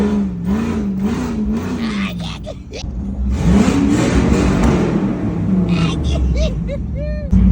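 A Hemi engine revs hard nearby, its rumbling tone climbing and falling in pitch, while voices talk over the engine noise.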